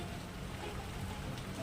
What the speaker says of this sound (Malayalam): മഴ വന്നല്ലേ, സൗണ്ട് കേൾക്കുന്നുണ്ട് മഴയുടെ